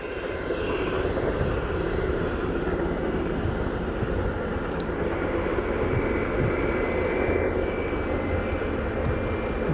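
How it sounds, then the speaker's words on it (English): British Airways Airbus A320 landing at Aberdeen Airport, a steady broadband jet roar holding loud and constant throughout, with no talk. "British Airways just sneaking in inside there. 319, 320. An A320."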